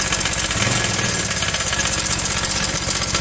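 Honda Vario 110 scooter engine with a worn cam chain tensioner, running steadily with a rough, rattling ticking mechanical clatter over a continuous close engine drone, no talk.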